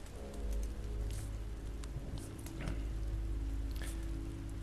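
Rain patters steadily on surfaces in the dark in The Walking Dead Season 2 video game, a faint, even hiss with scattered drips over a low hum.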